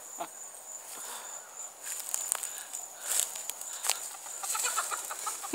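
Chickens clucking and squawking at close range in short bursts, with scattered footsteps and rustling in between.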